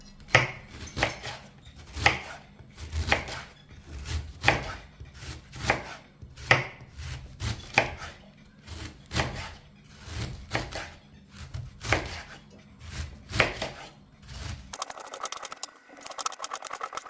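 A knife chops salt on a cutting board while cabbage is prepared for pickling. Steady, rhythmic, crisp thuds repeat at close range for about fifteen seconds, then break off into a quieter clatter, with no talking.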